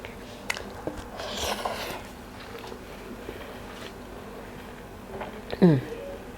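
Someone bites into and chews nasi kapau with thick minced beef. Soft mouth sounds sit under low room noise, with one sharper bite close by near the end.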